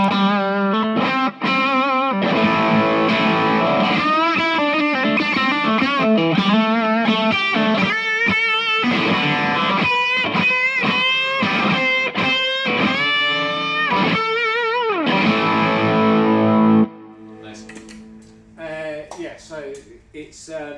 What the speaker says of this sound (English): So can you give me just the standard overdrive,